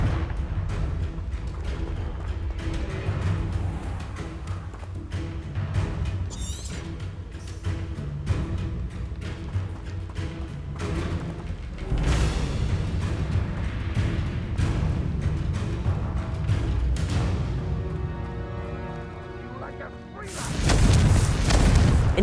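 The Confringo fire-blast spell exploding in the video game Hogwarts Legacy: a dense run of booming impacts and crashes over rumbling combat noise, with a final loud burst near the end.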